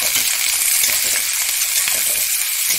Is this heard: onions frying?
yes